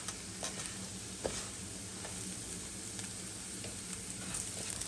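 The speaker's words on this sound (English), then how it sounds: "constantly flip, stir until the rice is like a light golden color" Sticky rice stirred and fried in a pan, giving a steady close sizzle with occasional scraping and stirring ticks throughout, no voices.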